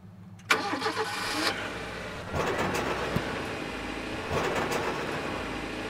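A car engine cranks and catches in the video game GREY, a sharp start followed by a steady mid-pitched idle with two brief swells of revving, close and fairly loud, with nobody speaking.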